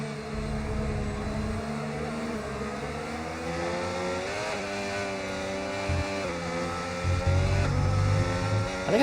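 A Formula 1 car engine in F1 25 screams at high revs, its steady whine rising and dipping through gear changes and growing louder near the end.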